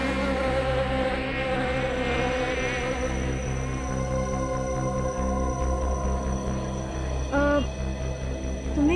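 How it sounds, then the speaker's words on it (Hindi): A housefly buzzes continuously and close, its whining drone wavering in pitch over a steady low hum, with a brief rising swoop near the end. "भिनभिनाने की, मक्खी के भिनभिनाने की।"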